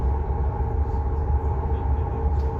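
Steady low rumble and rolling hum from inside a moving train in Brandenburg, with a constant whine and faint rattles, continuous and even throughout.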